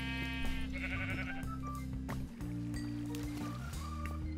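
Sheep bleating in the Minecraft video game, a few short game-animal bleats over steady background music and game sounds.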